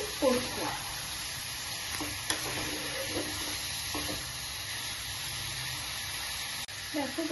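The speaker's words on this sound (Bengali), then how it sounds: "ভালো করে নাড়াচাড়া করে দিচ্ছি। এটা এখন হাই ফ্লেমে কিছুক্ষণ করবো।" Chicken for rezala stirred in a pan over a high flame, a steady faint sizzle with occasional scraping of the spatula throughout.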